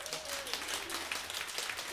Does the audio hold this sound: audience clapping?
yes